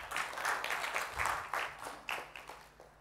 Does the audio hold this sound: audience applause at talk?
yes